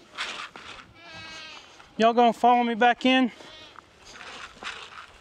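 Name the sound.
goats bleating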